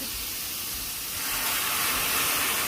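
Anchovy broth poured over lightly stir-fried ingredients for a maesaengi seaweed and oyster soup gives a steady, close hiss of steam that swells and grows louder about halfway through, with no voices.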